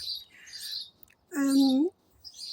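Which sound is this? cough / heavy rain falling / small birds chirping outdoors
small birds chirping outdoors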